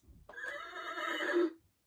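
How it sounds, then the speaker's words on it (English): A 2009 VTech Alphabet Apple toy plays a single electronic horse neigh through its small speaker, a clear rising and falling whinny lasting just over a second, close and alone. "Oh, horse sound."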